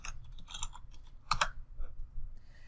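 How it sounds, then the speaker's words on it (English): Fast typing on a computer keyboard at close range, with clustered key clicks in quick bursts, one louder flurry in the middle, and short pauses between bursts. "go ahead and hit your greater than symbol and type in forename, and then also add surname below that"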